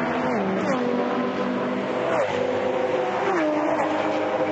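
GT race car engines roar continuously at close range, pitch rising and dropping with gear changes as a mix of several cars blast past during a race at the Clipsal 500, with a commentator talking underneath.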